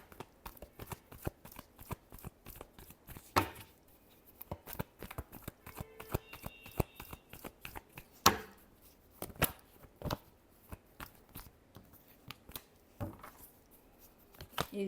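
Tarot cards are shuffled close up, a series of quick papery riffles and sharp taps in irregular bursts against quiet, with no talking.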